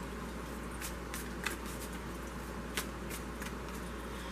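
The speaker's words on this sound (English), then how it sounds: "I'm going to shuffle them for a little bit longer." Tarot cards are shuffled quietly with soft riffling bursts at irregular intervals over a steady low hum.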